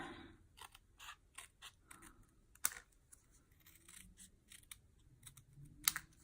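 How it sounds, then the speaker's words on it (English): Craft snips cut around a piece of cardstock for a handmade card, giving a quiet, close series of rapid crisp clicks and snips with two sharper snaps. "I'm just going to take my snips and cut around"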